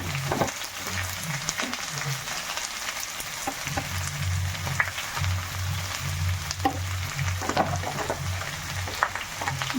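Mixed vegetables for a Kerala sadya mezhukkupuratti stirred and cooked in a pan, giving a steady close sizzle broken by intermittent spoon scrapes and clatters, with no talking.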